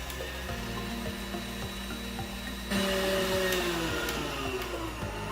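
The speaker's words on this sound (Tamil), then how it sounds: "ஸோ இது வந்து இப்போது ஹை ஸ்பீடில் பீட் பண்ண போகிறாங்க." Electric hand mixer whipping cream at high speed for a beetroot cake, a steady motor whir that jumps louder and higher partway through as the speed increases, continuous and close with no talking.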